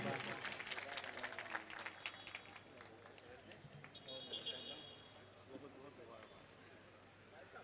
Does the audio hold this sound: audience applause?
yes